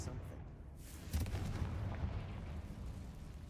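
A Confringo fire spell explodes in Hogwarts Legacy inside a decaying stone catacomb, a deep muffled boom followed by a sustained low rumble, moderately loud with no clear speech.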